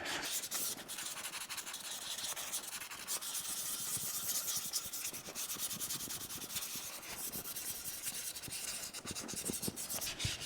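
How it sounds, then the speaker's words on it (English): Continuous rhythmic light hand sanding of painted wood on a carriage, close and steady, with short strokes repeating for the whole stretch and no talking. "Just a light sanding process."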